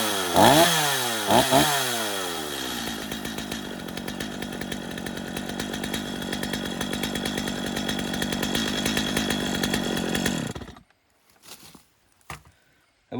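A homeowner chainsaw, either a Stihl MS 250 or a Husqvarna 435, fires after a couple of rising revs, then runs on fast idle with a steady, loud buzzing drone before cutting off abruptly, leaving a few faint clicks.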